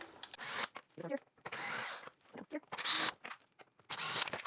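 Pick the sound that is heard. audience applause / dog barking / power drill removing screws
power drill removing screws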